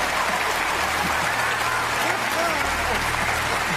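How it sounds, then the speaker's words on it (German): Studio audience applause on the Quiz Champion 2015 quiz show: dense, even clapping from a large crowd throughout, loud and continuous with no pauses. "Schluss mit dem Applaus."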